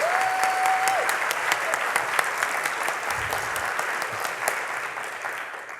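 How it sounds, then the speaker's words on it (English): An audience at an opening celebration gives dense, sustained applause, loud and even throughout, and a brief tone is heard near the start. "So Tim Ehrenberg, you get a round of applause."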